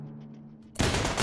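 A sudden, dense burst of rapid automatic fire from a minigun in RimWorld Royalty cuts in loudly after a quiet low hum and keeps roaring without a break.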